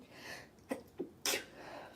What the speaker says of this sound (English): Still sneezing.